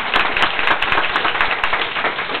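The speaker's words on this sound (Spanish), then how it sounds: "un aplauso a mi mamá" Applause for the mother at a sweet fifteen party, a loud, close burst of many hands clapping in a busy, uneven rhythm that runs steadily from start to finish.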